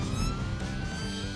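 A traffic police car's siren blares loudly and steadily at close range, with no voices over it.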